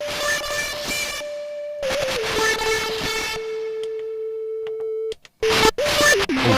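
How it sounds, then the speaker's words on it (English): Arturia MiniFreak synthesizer playing a super wave, a loud sustained buzzy tone with harsh noise, broken by gaps and short stabs near the end, without talk. "basic waveforms, super wave"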